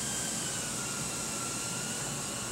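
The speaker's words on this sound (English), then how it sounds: "we'll do a hands-off hover." A Blade Inductrix micro quadcopter hovering indoors in a room, giving a steady, even high-pitched whirring hiss that holds constant throughout with no talk.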